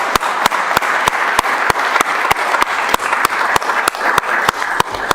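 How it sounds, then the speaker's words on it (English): An audience at a city council meeting applauds, a continuous dense clapping sound with sharp, evenly spaced loud claps or knocks repeating through it. "I didn't give Marcus a round of applause."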